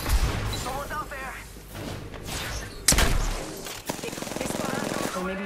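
Apex Legends gunfire cracks out as sharp shots and a rapid burst, heard close among game voice callouts and in-game speech.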